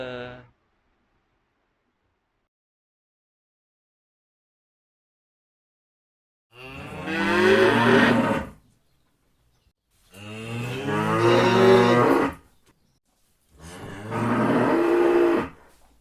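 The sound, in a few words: cow mooing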